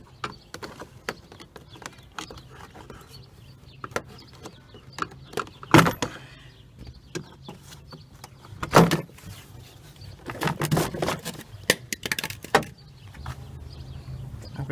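Door panel clips being pulled off a 2003 Mitsubishi Lancer ES, scattered sharp plastic snaps and clunks with a few louder pops in a quiet garage.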